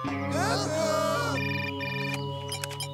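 A telephone rings in a French cartoon, a loud electronic ringtone with warbling tones that fills the clip alone before fading toward the end.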